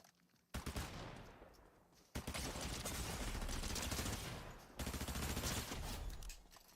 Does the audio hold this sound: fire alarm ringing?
no